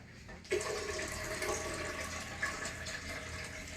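Coconut water pours into a juice mix of cane juice, making a steady liquid splash and trickle that begins sharply after a brief pause and continues evenly, fairly quiet and close, with no voices.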